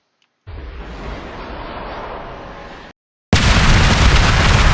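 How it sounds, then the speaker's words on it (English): Rapid bursts of explosions from the Chaos ability in Roblox Star Glitcher form a dense, loud rumbling roar that stops briefly, then returns even louder and brighter. "A bunch of rapid explosions around you."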